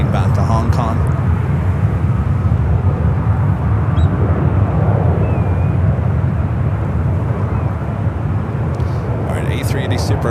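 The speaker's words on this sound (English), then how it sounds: "Pacific A350-900 heading back to Hong Kong" A Cathay Pacific Airbus A350-900 airliner rumbles steadily nearby, a broad low engine roar sustained throughout, with faint voices audible at the start and end.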